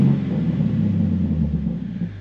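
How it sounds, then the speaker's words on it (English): BMW G80 M3 idling with a low, rumbling exhaust burble, steady and close, slowly fading toward the end. "BMW, those nerd burbles are so stupid."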